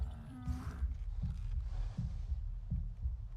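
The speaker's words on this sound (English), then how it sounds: "And why am I hearing like a heartbeat?" In the Avatar Frontiers of Pandora video game, a muffled, low heartbeat thumps in a steady, slow double rhythm, close and dull, over a faint hazy hum with a brief tonal sound near the start.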